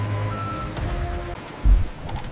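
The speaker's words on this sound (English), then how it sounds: "Powerful forklifts load thousands of boxes onto waiting trucks." Forklifts in a KitKat chocolate factory sound their reversing alarms while loading trucks, giving a steady series of tonal beeps over a low machinery rumble, followed by a heavy thud and engine noise.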